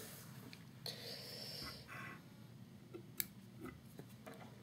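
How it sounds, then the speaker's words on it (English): Small scissors snip fly-tying fibers off a hook in a few quick, quiet cuts, close up against a faint room hiss, with no speech. "snip all these fibers off in a straight line"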